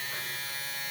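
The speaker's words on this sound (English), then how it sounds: "single foil shaver." A JRL Ghost single foil electric shaver runs with a steady, bright, continuous buzzing hum, close and loud throughout with no talking.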